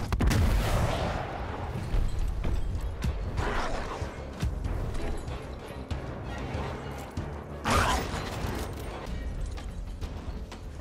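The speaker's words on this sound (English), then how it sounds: "Shit, chain gun. Missile barrage." Heavy automatic fire from a chain gun and a missile barrage in the video game Gears Tactics, with dense sustained blasting and booming impacts that rise in several loud bursts throughout.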